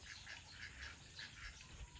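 Several farm ducks on an off-grid homestead in the Philippines quack in a loose, repeated series of short calls at moderate distance over low background noise.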